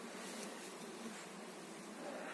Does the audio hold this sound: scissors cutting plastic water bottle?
no